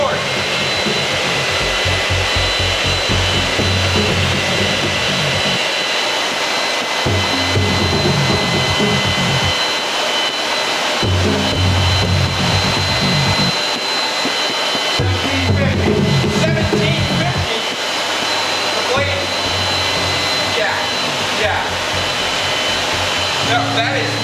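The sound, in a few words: heating a Damascus sword blade for heat treatment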